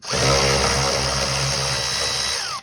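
A power screwdriver backs out a screw on the air filter housing of a Citroen C3 1.6 HDi, giving a steady, close motor whine that holds for about two and a half seconds.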